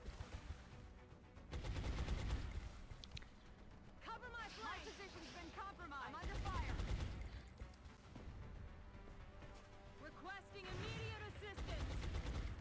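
Enemy gunfire in the strategy game XCOM: Long War, bursts of rapid shots and automatic fire that come and go in waves, with talk between them.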